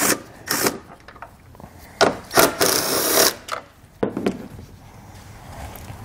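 Two 10 mm bolts being loosened and pulled from a 2017 Toyota taillight, heard as a few short, sharp clicks and ratcheting bursts with quiet pauses between, close up and with no talk.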